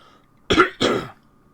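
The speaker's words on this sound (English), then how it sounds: "I've been trying to clear my throat for a while now, but it just hasn't been working out." A person clears their throat in two quick, loud, rasping bursts, close to the listener, with quiet around them and no talking.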